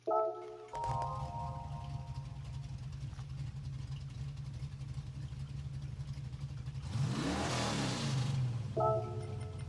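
A 1969 Pontiac GTO The Judge in Gran Turismo 7 cranks and fires up, then settles into a deep, lumpy idle with a brief rev swelling near the end, loud and alone.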